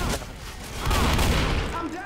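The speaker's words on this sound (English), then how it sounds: "My bullets still know where to go." Gunfire in a shooter video game, a dense burst of rapid shots that swells in the middle, with a person talking over it.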